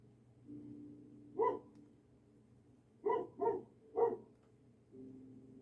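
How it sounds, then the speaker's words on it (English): A small dog barks outside a window, one short bark followed by a quick burst of three, all moderately near and heard alone over a quiet indoor background. "The little doggy outside has found something to bark about."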